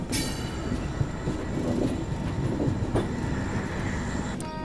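A train pulls into Lumding railway station, a steady broad rumble of rolling stock with faint clatter throughout and a brief higher squeal near the end, fairly loud and continuous with no talking.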